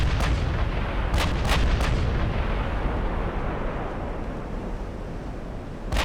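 Naval artillery fire booming in the Ultimate Admiral: Dreadnoughts warship game, a dense, loud rumbling barrage with several sharp cracks of incoming shells early on and another at the end, alongside the churn of a ship at sea.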